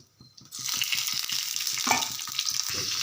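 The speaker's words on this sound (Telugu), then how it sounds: "పచ్చిమిర్చి కూడా వేగుతున్నాయి" Green chillies fry in oil for chutney, a loud, steady sizzle that starts after a brief quiet moment and keeps going with soft crackles.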